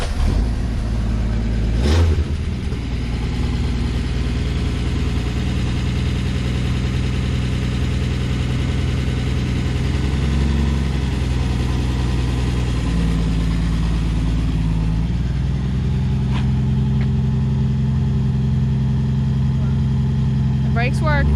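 A 1964 Plymouth Belvedere with a slant six engine drives steadily, its low engine drone continuous and fairly loud throughout, with a brief sharp noise early on and a slight shift in tone partway as it rolls along.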